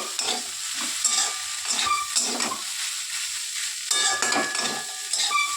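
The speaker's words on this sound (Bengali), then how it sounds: "এতটা পরিমাণে চিনি, বেশি দেব না। ভালো করে একটু নাড়বো।" A spoon stirs fish roe with potato, pointed gourd and a little sugar in a sizzling pan, giving rhythmic scraping strokes over a steady frying hiss with no voices.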